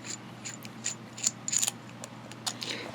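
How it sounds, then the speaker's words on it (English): A Jinhao 15 fountain pen barrel being unscrewed: a few faint, brief scratchy clicks and ticks of threads turning, scattered over about three seconds against quiet room noise. "So let's unscrew the barrel."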